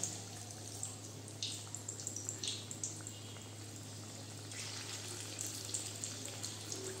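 Egg pakora fry in hot refined oil in a kadai, giving faint scattered crackles and soft bubbling pops over a low steady electrical hum, quiet and close with no one talking.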